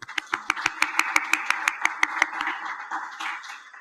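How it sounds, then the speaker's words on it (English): Small audience at an annual poetry celebration clapping, with a dozen sharp, near claps in quick even rhythm from one or a few people over softer scattered applause that fades away. "I want to give her a round of applause too."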